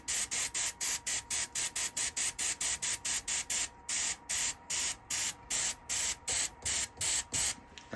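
Aerosol sanding sealer sprayed onto a turned wooden bowl in short, sharp hissing bursts, about twenty in a steady rhythm with brief gaps, close and loud.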